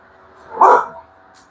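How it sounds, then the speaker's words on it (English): A dog gives a single short, sharp bark close by, with brief quiet before and after. "The dog is barking."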